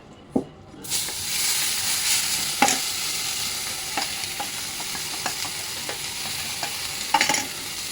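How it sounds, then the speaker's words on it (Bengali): Mutton curry spice paste with sour yogurt sautés in a kadai, starting with a sudden hissing sizzle. Repeated clinks and scrapes of stirring cut through the steady close frying noise, and no one speaks. "এইবারে আমি কড়ার মধ্যে এই মশলাটা দিয়ে কষাবো।"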